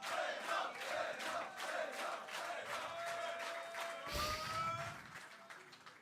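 A large crowd at an offline StarCraft II finals event roars and cheers continuously, a dense wash of many voices with rhythmic pulses, ending in a brief thump before the noise eases slightly.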